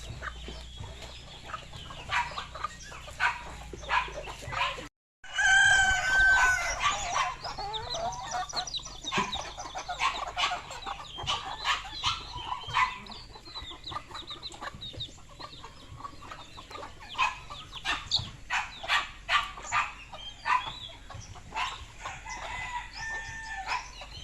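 Chickens clucking and a rooster crowing at a poultry farm, with repeated close clucks throughout and a crow ringing out near the start, over faint ambient background.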